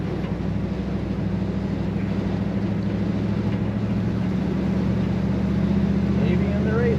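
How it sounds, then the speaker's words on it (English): 1961 Ford F100 street rod truck accelerating on the road, a steady low engine drone heard from inside the cab with some wind noise, rising slightly toward the end. "Let's see if I'll get to accelerate again here."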